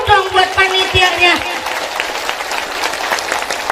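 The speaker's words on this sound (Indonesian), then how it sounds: "Tepuk tangan dulu dong buat panitianya." An audience claps for the organizing committee during a religious lecture in OKI, South Sumatra. Loud, close applause with crowd noise and some voices mixed in, and a sustained tone at the start.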